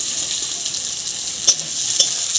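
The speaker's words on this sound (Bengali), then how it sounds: "রসুনটাকে হালকা করে ভেজে নিচ্ছি এবার দিয়ে দেবো পেঁয়াজ কুচি" Chopped garlic and onion frying in a pan over a wood fire, a steady loud sizzle throughout with a couple of faint utensil clinks partway through.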